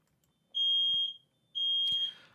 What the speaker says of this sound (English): The effing fire alarm has gone off.